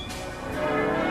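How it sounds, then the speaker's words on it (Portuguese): Church bells toll in a dense, clanging wash, several peals overlapping loudly and continuously at the start of a day of unrest in revolutionary Paris. "O dia nasceu ao som de furiosas badaladas"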